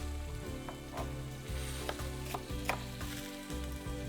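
Shishito peppers sizzle steadily in a pan on low heat, a continuous close frying hiss with occasional stirring and light clinks over a low background hum.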